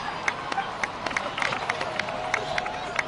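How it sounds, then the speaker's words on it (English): A Genshin Impact video game crowd claps in scattered, uneven bursts under a low background murmur, moderately loud. "please give another round of applause for them"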